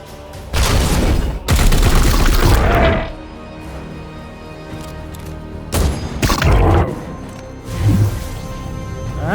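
Gunfire in the tactical game Warhammer 40,000: Chaos Gate – Daemonhunt comes in two loud, sustained bursts of heavy shots with crashing impacts, separated by quieter pauses, ending in another thudding hit.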